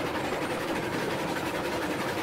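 A freight train runs steadily in Railroads Online, a continuous close rolling rumble with faint rhythmic clatter of wheels and cars, no voices.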